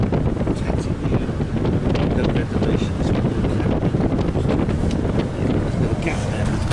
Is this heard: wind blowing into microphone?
yes